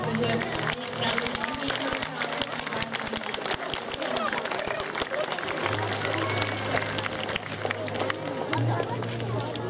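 An audience at an awards announcement ceremony claps steadily in a dense, continuous patter over background room noise and a low hum, with no break across the stretch.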